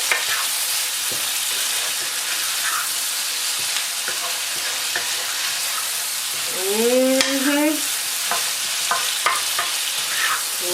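Spicy king prawns fry in a pan with a loud, continuous sizzle while they are stirred. Occasional scraping taps come through, and a short voiced sound rises briefly in the middle.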